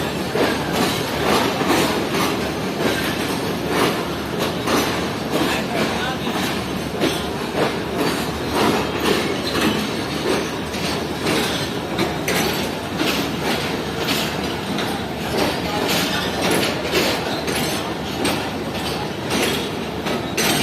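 A Pakistan Railways air-conditioned sleeper train runs along the track, with a steady rumbling roll and dense rhythmic clickety-clack from the wheels, heard from inside a coach and continuous throughout, without talk.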